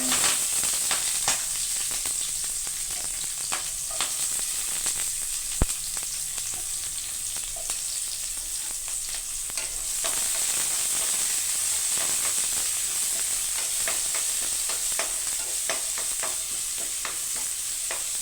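Mustard seeds and curry leaves crackle in hot oil as a continuous close sizzle, with scattered pops and occasional stirring scrapes throughout.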